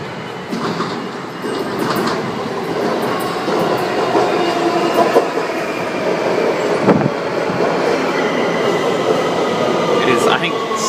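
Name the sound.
yellow line metro train approaching the platform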